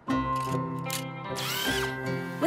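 Cartoon Wonder Drill 2200 power drill whirring steadily at close range with a shifting motor pitch and a rising whine partway through, with no talking.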